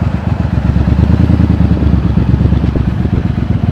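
A new Triumph T100 tracker-style motorcycle being ridden, its engine a steady, close, low rumbling drone that holds an even throttle throughout with no talking.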